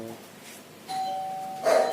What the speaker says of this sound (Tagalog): Yan po na doorbell.